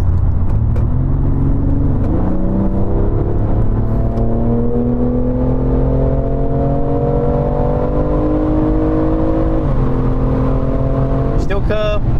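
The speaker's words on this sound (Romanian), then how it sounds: "Hai, dau un launch control." A BMW M2 Competition launches hard under launch control on a gravelly surface, its engine roaring loud and close as it climbs through rising revs with two quick gear shifts, continuous and alone.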